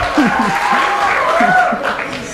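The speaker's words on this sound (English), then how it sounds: "give them a round of applause as they exit the stage" Audience applause at a spoken-poetry competition final as contestants leave the stage, a steady wash of clapping that holds for a couple of seconds, with voices and a little laughter mixed in.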